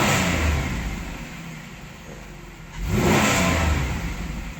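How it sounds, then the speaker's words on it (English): A Buick 3800 V6 in a Pontiac Grand Prix, raised on jack stands, revs hard up to its limiter in two loud bursts with a brief drop between, heard close and alone. "Nothing better than revving a motor on jack stands, right? Too bad it's a rev limiter."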